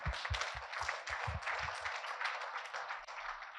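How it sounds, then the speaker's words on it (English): An audience claps at a talk, giving a dense, sustained burst of many hands close by that keeps a steady level for a few seconds and then thins slightly. "Let us give a big clap here."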